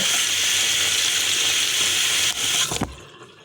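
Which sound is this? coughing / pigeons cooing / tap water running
tap water running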